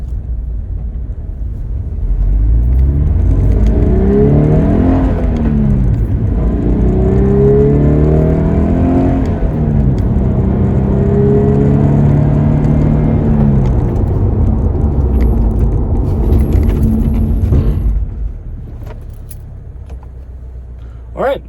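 A car fitted with racing brake pads rumbles loudly as it accelerates through rising engine notes, then the noise drops away as it brakes hard to a stop. Someone talks over much of it.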